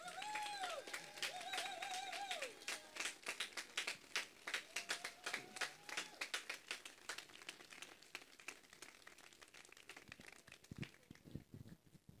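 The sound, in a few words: audience ovation applauding Martin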